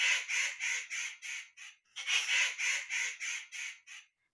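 A crow in a cartoon caws in a rapid series of harsh, evenly spaced calls, about a dozen in two runs with a short pause between, loud and close with no other sound.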